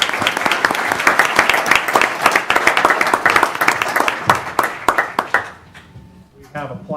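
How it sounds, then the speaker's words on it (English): A city council meeting audience in Ogden applauds a council member, a loud, dense burst of clapping that thins into scattered claps and fades after about five seconds, followed by a voice speaking. "if we can just give him a round of applause and have him come up"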